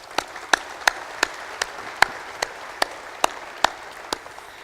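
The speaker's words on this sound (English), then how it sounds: "could I have a round of applause for Jodie?" Sparse, scattered claps from a small audience applauding a volunteer named Jodie at a taskforce thank-you gathering, a dozen or so sharp separate hand claps spread evenly over a few seconds against a quiet room.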